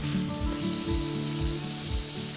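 Tomatoes and spices (salt, black pepper, coriander, hot pepper, Italian herbs, sweet paprika) sizzle in a cauldron for pasta, a steady close frying hiss with low harmonic hum underneath, no voices.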